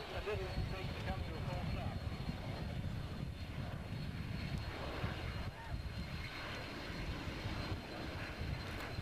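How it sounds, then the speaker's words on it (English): A QSRA quiet short-haul research airplane descends steeply to land, its steady, loud engine roar filling the whole stretch without a break. "the airplane will come down and come to a halt in a relatively short distance"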